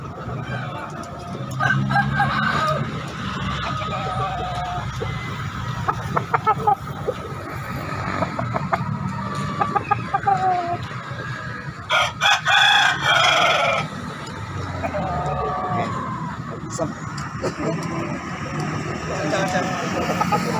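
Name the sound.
chickens and roosters crowing at a Makassar chicken market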